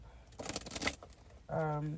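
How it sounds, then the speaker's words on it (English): A quick riffle of cards being shuffled, a fluttering burst of snaps, followed by a person starting to speak. "Let me shuffle this deck up"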